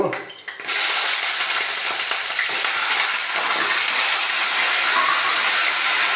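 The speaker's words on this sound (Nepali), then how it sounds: "मैले पहिला आलु हाल्छु।" Raw potatoes hit hot oil in a pan of frying vegetable curry, setting off a loud, steady sizzle that starts abruptly and keeps hissing without a break.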